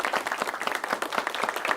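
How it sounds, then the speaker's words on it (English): Applause for a Five Nights at Freddy's 2 moment, a short burst of dense, steady clapping from a few hands, close and fairly loud, with no clear talking. "Let's clap it up for that."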